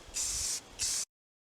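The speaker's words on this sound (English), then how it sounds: "Then I spray painted it." A spray paint can coats a custom wooden sign in two close, hissing bursts, the second shorter than the first, followed by silence.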